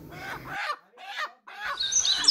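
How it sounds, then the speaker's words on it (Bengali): A tiger chicken squawks in loud, harsh bursts while it is being caught: a long call, a short pause, a shorter cry, then a last rising squawk, all close by. "সেখান থেকে একটা টাইগার মুরগি আমি ধরে নিচ্ছি"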